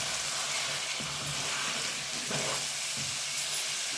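Spices with turmeric frying alongside mutton in a pot for korma, a steady close sizzle with occasional stirring scrapes and no talk.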